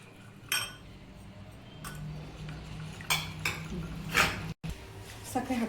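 A spoon scrapes and clinks against a bowl while cornflour is mixed in, with a few sharp taps and knocks spaced irregularly over a quiet room, close and fairly soft.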